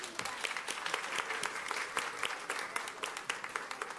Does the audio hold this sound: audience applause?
yes